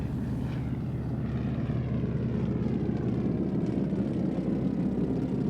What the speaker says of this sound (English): When airplanes were heard, a little before 8 o'clock that Sunday morning, no one was alarmed.